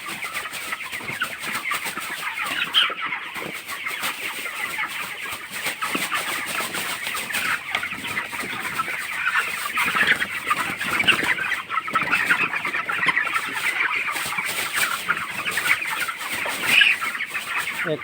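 Young broiler chickens, around twenty days old, cluck and chirp steadily as a dense flock inside a poultry shed, a constant close chorus with no talking.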